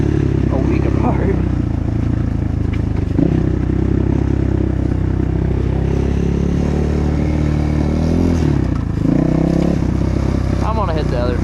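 A Kayo K4 250 dirt bike is ridden along trails, its engine droning loud and steady with rising revs and rattling clatter over rough ground, close throughout.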